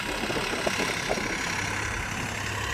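Sonalika 47 RX 4WD tractor pulling a cultivator through a potato field in low fourth gear, a steady engine drone with rumbling low end, heard close and continuous.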